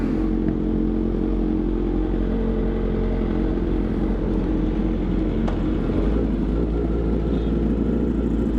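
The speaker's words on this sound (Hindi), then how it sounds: "तो बस उधर ट्रैक पर चलते हैं और अहमद भाई को मौका देते हैं कि वो अपनी बाइक टेस्ट करें" A tuned superbike, a Ducati V4S or Honda CBR1000RR-R, drones steadily at close range on a racetrack, a continuous rumbling hum with slight shifts in pitch.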